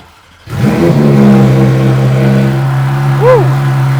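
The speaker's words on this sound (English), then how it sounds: "We're doing a first initial cold start." A Porsche GT3 RS flat-six fires up from cold, cranking into a loud, steady high idle that holds close and strong, with a brief rising blip near the end.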